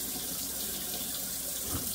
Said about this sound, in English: make this flour sack into a ball and rinse with cold water